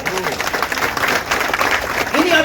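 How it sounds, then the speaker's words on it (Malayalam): An audience at a talk breaks into brief, dense applause that fills the room, with a voice heard over the clapping. "RCMന് നല്ലൊരു കയ്യടി കൊടുക്കാമോ?"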